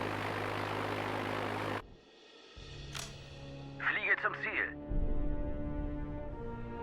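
Recon airplanes fly in as a low propeller drone in the Sudden Strike 4 German campaign, mixed with game radio chatter and effects, while someone talks over it.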